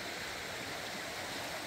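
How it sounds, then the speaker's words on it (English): Creek flowing past a rainy forest campsite, a soft continuous broadband rush of water heard fairly faint and steady, with no voices. "the creek"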